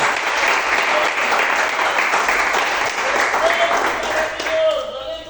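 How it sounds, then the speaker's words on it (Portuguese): Loud, sustained applause from a church congregation during a worship service, with a voice rising over the clapping near the end. "Aplauda o Senhor por essa palavra em nome de Jesus."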